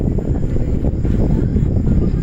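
Steady rushing whoosh of air from an electric fan blowing close to the microphone, constant and loud with a low rumble.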